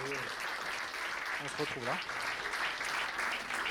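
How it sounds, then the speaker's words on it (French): An audience applauds the sponsors, a dense wash of clapping running underneath someone speaking over it, moderately loud and steady throughout. "je vous demande d'applaudir tous ces sponsors"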